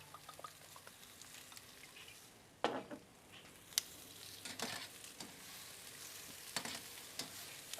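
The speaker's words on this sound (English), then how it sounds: "These mushrooms look like they're getting cooked down a bit." Oiled mushrooms sizzle steadily on a barbecue grill, with a few sharp clicks and scrapes of utensils on top.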